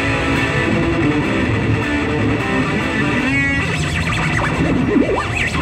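An electric guitar runs through a GTC Sound Innovations REVPAD effects pedal, giving loud, distorted, warbling tones with sweeping pitch bends and a brief stuttering burst, heard up close at a crowded trade show with no speech.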